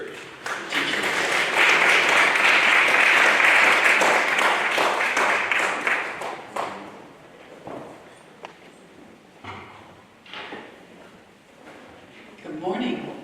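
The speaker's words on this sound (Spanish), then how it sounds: "Let's give her a round of applause." Audience applause welcoming a speaker at a church event, a loud burst of clapping for about six seconds that fades into scattered claps, shuffling and low murmuring.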